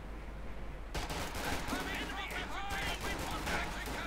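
Small-arms and machine-gun fire crackles in a Company of Heroes 2 1v1 match as American infantry and a Sherman catch an MD-42 in the open. Dense, steady bursts begin abruptly after a brief quiet, with commentary talk running over them.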